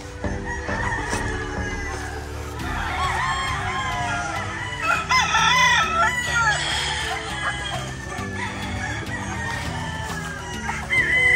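Gamefowl roosters crow and hens cluck at a hardening pen, several birds overlapping in loud, drawn-out crows and chatter amid farmyard background noise.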